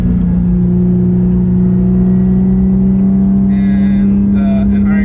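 Engines of two white air-cooled Porsche 911s with a Mazda RX-7 between them driving on a race track, a steady loud drone heard from inside a car, with someone talking over it.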